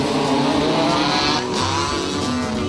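Race car engines in pouring rain roar and rev together before a race, loud and close with overlapping rising and falling engine notes and no speech.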